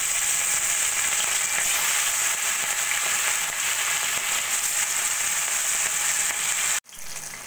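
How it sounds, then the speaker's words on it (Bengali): Hilsa fish fry in hot mustard oil with a steady, loud, close sizzle and crackle that runs without a break until a brief cut near the end. "এবার আমি মাছগুলো ভেজে"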